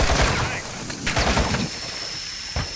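Gunfire in a shooter game, scattered sharp shots and short bursts, some close and some more distant, over dense battlefield noise with no talk.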